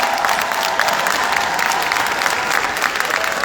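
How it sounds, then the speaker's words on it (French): An audience at a formal ceremony, about to hear an ambassador's speech, breaks into dense, steady applause, a sustained wash of many hands clapping with no break throughout. "Sous vos applaudissements, s'il vous plaît."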